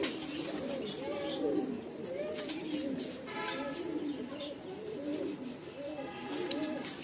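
White Modena pigeons coo steadily on a pigeon farm, a continuous rolling chorus of overlapping low coos from several birds close by, with faint chirps mixed in.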